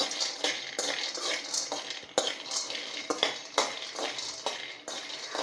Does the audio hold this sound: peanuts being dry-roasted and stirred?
yes